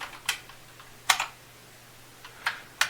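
A few separate computer keyboard keystrokes, sharp and close, scattered in small clusters with quiet gaps between them and no talk.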